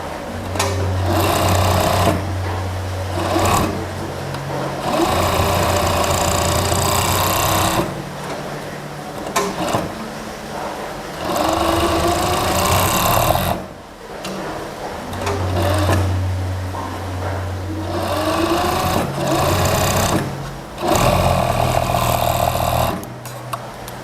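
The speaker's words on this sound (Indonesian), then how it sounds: "Oke, kita ke mesin obras dulu yuk. Kita obras dulu." An overlock sewing machine serges the edge of a dress fabric in repeated loud, steady bursts of fast mechanical whirring and rattling, each run lasting a few seconds with short pauses between, and no talk over it.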